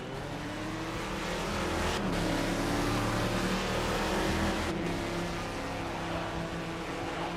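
Race cars lap a track in the Second Life video game, a continuous loud engine drone with rising and falling pitch as cars run close together, holding steady for the whole stretch with no voices.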